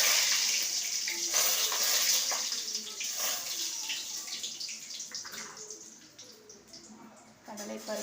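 Mustard seeds spluttering and crackling in hot oil for rava kichadi, a dense steady hiss with scattered pops that slowly eases, running alone without talk.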